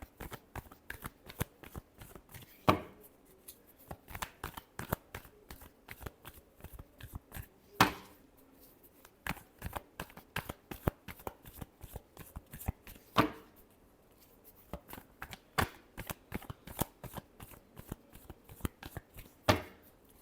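Tarot cards riffled and shuffled by hand, a steady run of crisp flicking bursts with a few louder slaps, close and alone without talk.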